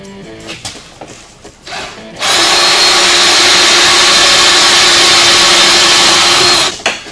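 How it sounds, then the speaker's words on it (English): Power drill boring through a panel while fitting Pro Armor XP1000 door inserts on a 2015 900S side-by-side, a loud continuous whine of about four and a half seconds after some brief handling knocks, then stopping abruptly. "I'm just going to go ahead and drill it."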